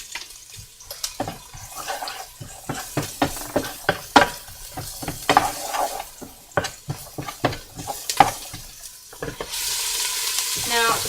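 Soft sizzling of onions softening over medium heat in a stock pot with olive oil, with repeated stirring scrapes and clinks, close by, ending in a steadier hiss of frying.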